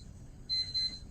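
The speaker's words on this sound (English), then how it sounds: "somebody's alarm clock is going off." A faint electronic alarm clock beeps twice in quick succession from somewhere across a quiet lecture hall, thin and distant over low room rumble.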